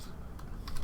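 Keys tapped on a computer keyboard in quick, uneven bursts, with a louder flurry of clicks near the end, close and fairly faint, no voices.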